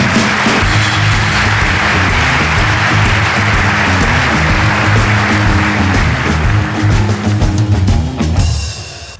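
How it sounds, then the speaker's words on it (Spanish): Loud, dense applause rolls through a comedy show audience with music thumping underneath, sustained for several seconds before cutting off abruptly. "Un fuerte aplauso, vamos, con él."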